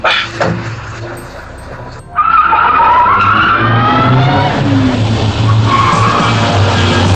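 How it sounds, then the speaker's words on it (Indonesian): Tires skid and squeal loudly during a car chase in an Indonesian action film, with engine roar under sustained screeching after a brief lull, continuous and close. "Melihat kobra yang melintas dengan mobilnya, lalu Rudy dan Irma pun langsung mengejarnya."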